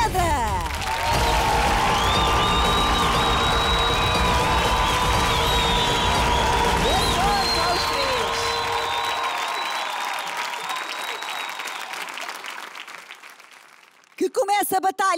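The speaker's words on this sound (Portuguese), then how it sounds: "vamos receber com um aplauso" Studio audience at a children's televised singing competition battle round, loud applause with cheering and high whoops filling the room, then tapering off to near silence before a brief final burst.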